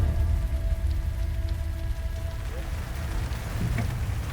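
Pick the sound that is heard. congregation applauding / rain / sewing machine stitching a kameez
rain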